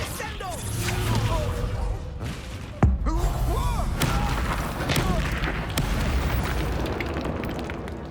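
A Confringo spell explodes in the Hogwarts Legacy video game, a sharp loud blast near the middle amid battle noise, with character voices speaking throughout.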